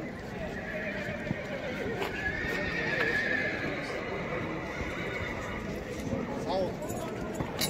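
Horses at a livestock and horse market in Taraz, whinnying and hooves clopping amid a busy crowd, with people talking throughout.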